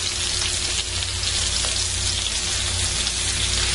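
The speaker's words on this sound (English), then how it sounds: "I'm going to give my brats a stir here" Bratwursts sizzle steadily on an outdoor grill while being stirred, a loud, continuous crackling hiss with a low rumble underneath and no voices.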